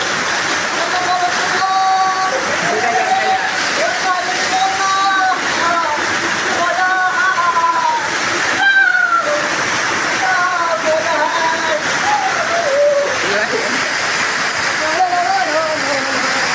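Floodwater rushes steadily into a house in Raiganj district, a loud continuous roaring gush and splash, with a person talking over it throughout.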